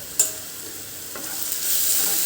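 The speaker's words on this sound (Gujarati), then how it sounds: "અને એક વખત આપણે મિક્સ કરી લેવાનું છે" Spices are stirred into a paneer mixture in a pan, giving a soft hissing sizzle with a sharp tap at the start and a few light scrapes, close and steady, with no speech.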